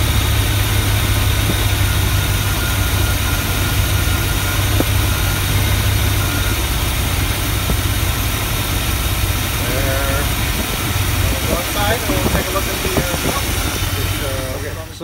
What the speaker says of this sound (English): And then you've got your idle, which is idling just fine.